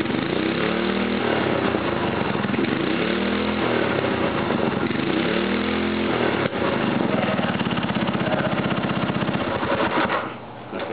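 A homemade motorcycle with a 5 HP engine runs loud and close, a raw buzzing putter with rising and falling revs, dipping briefly near the end.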